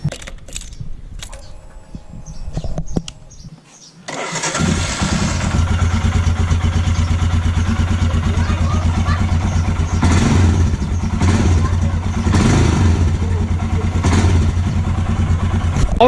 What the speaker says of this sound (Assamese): অল ছেট বাইক ষ্টাৰ্ট দিলোঁ